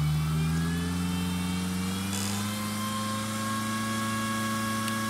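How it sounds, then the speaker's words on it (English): Remote-controlled 8x8 Mudd-Ox amphibious vehicle engine running steadily and revving, a loud continuous mechanical drone with strong low harmonic tones close by, no speech. "Rev it back up."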